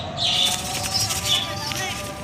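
Six wild jungle pigeons flap their wings as they are released, a steady close fluttering rush lasting the whole moment.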